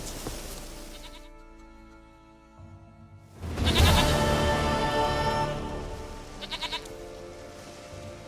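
Goat bleating in The Witcher 3: Wild Hunt, heard over soft game music as one loud, close, wavering bleat partway through, with a fainter trailing cry after it.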